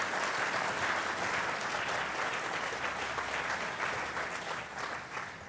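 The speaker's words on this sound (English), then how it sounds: "Let's give them a round of applause for coming here." Audience applause welcomes a conference panel, a sustained wash of many hands clapping steadily for about five seconds before tapering slightly at the end, with no speech over it.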